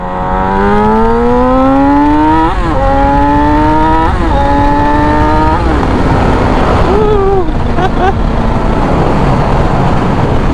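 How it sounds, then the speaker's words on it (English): A 2017-2021 Yamaha YZF R6 Raven sportbike accelerating hard from second gear, its loud engine note climbing steeply and snapping through three quick upshifts before settling, close and dominant throughout. "We're really going to give it some gas here and see how powerful this bike is."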